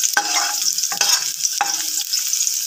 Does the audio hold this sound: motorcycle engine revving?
no